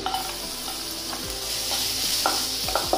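Garlic frying in butter in a hot wok, giving a constant loud sizzle broken by repeated scraping and stirring strokes, close up and with no talk.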